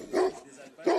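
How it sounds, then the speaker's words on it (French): Dogs on a sheep farm bark twice in quick succession, close and fairly loud, in a short sharp pair. "Des aboiements en guise de discours d'accueil."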